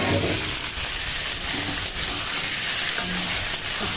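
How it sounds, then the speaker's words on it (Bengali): Eggplant and potatoes hiss and sizzle in hot oil, a loud, continuous frying noise with faint stirring underneath, close up and without speech. "এবার বেগুন আর আলুগুলো দিয়ে দেবো।"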